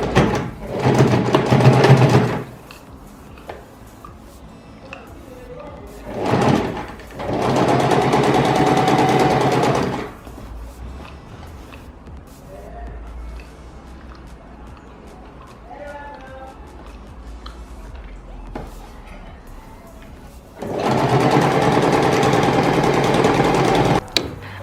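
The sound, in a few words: sewing machine sewing a straight stitch on fabric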